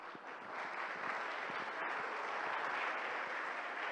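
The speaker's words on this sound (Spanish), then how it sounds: "Ese aplauso es para el Señor" A church congregation applauds in a steady, dense wash of clapping that holds evenly throughout, moderately distant and without speech.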